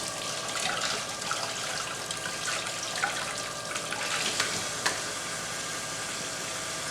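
Tap water runs steadily into a kitchen sink while a tomato is peeled under the stream, a continuous close hiss and trickle with no talking.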